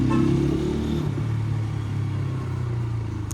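A 2025 TVS Apache RTR 160 4V motorcycle ridden in third gear over speed breakers, giving a steady, close, low engine drone with slight rises in pitch.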